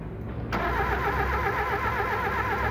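Car engine cranking repeatedly without catching, a steady rhythmic starter whir after a brief quiet start, close and loud, with a temperature sensor fault suspected.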